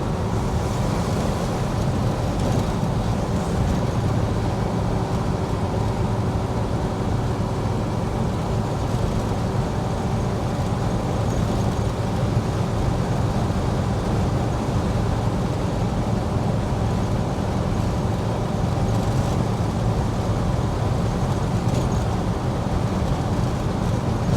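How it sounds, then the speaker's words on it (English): Steady, loud drive in an El Camino on the road: a continuous engine hum and tire roar that holds even for the whole stretch, with no one speaking. "It's a nice day to drive this car."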